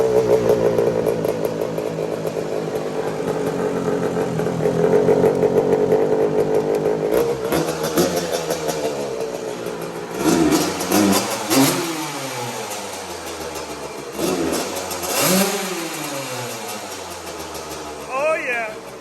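Honda CR125R two-stroke dirt bike engine idling loudly up close, then revving repeatedly in sharp rising bursts, with people talking over it.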